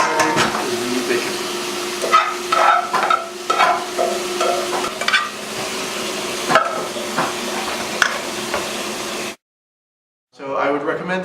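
Bacon crackling in a pan during a quick home cooking demo, busy close sizzling broken by clattering stirs and scrapes, cutting off to near silence before resuming briefly at the end.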